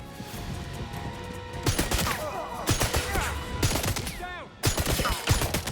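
Bursts of rapid gunfire in the 007 First Light video game, loud and close, with a quiet gap before the shots start and another short pause between the volleys.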